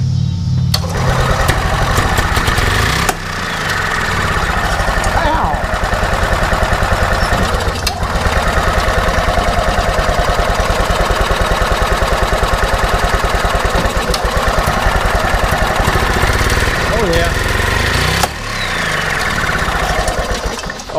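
An EZGO golf cart engine runs after a starter generator replacement with the drive belt off, putting out a loud, close, steady mechanical drone. Brief dips and popping bursts break the running sound at a few points.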